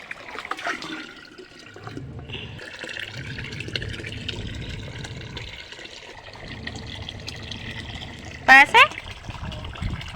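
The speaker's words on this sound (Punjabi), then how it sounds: "ਟੂਟੀ ਆ ਗਈ ਸੀ ਤੇ ਮੈਂ ਕਿਹਾ ਚਲੋ ਫਟਾਫਟ ਪਾਣੀ ਭਰ ਲਈਏ ਇਹ ਪੀਣ ਵਾਲਾ ਪਾਣੀ ਹੈ" Drinking water runs from a tap into a container, a steady trickling and filling sound under nearby talking, with a couple of sharp knocks near the end.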